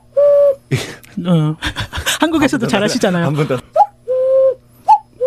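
Cuckoo call imitated by blowing into cupped hands, giving clear two-note hoots near the start and again near the end, with people chatting and chuckling in between.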